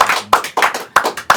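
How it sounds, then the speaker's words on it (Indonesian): A few sharp, separate claps in a quick uneven rhythm, close and loud, from a small group on a podcast set, with no crowd wash behind them. "Tepuk tangan dulu untuk Obama."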